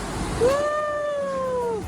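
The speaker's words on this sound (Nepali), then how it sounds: "so CAT" A cat gives a single drawn-out meow, clear and close, rising at the start and holding steady before trailing off, with faint background noise around it.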